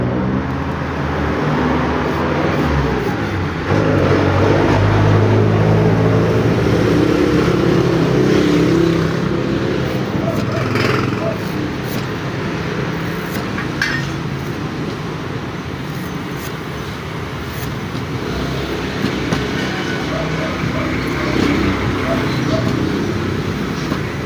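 Heavy trucks and other traffic rolling past on a busy road, a steady loud broadband rumble that swells and fades as vehicles go by, with people talking faintly underneath.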